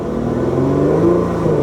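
A Lotus engine revs with its exhaust valve open, a steady, full mid-range drone rising slightly in pitch, loud and close throughout with no talk.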